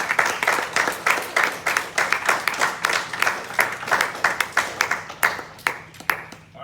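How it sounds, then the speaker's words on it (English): Audience applause for Cub Scouts earning the Arrow of Light at a pack crossover ceremony, a room of people clapping in a steady rolling pattern of sharp hand claps that thins out toward the end. "if you'd all join me in a round of applause for these scouts who have attained their Arrow of Light"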